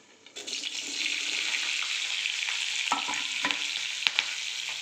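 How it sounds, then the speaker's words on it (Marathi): Green chillies fry in hot oil with cumin, a bright, continuous sizzle close by, broken by a few sharp pops and spatters as the pieces are stirred. "मिरचीला आपल्याला व्यवस्थित फ्राय करून घ्यायचं आहे"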